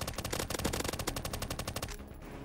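A rapid burst of automatic gunfire from the video game Security Guard Simulator, about twenty evenly spaced shots in quick succession, loud and close, stopping abruptly near the end.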